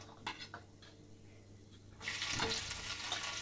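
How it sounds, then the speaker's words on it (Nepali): Garlic frying in oil with cumin, fenugreek and ajwain in a pan for taro root curry: a few quiet stirring clicks, then a bright, steady sizzle swells up close and keeps going. "लसुन राखिसकेपछि म थोरै टाइमको लागि लसुनलाई फुराएँ"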